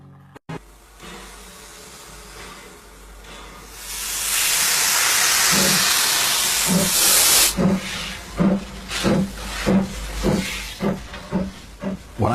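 A steam train on the Isle of Wight releases a loud, sustained hiss of steam that cuts off abruptly, followed by rhythmic chuffing bursts as the locomotive pulls away, close and without speech.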